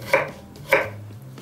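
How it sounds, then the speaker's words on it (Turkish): Two crisp knife chops through taro root on a cutting board, close and distinct, about half a second apart. "Bu şekilde gölevizi kesiyorum."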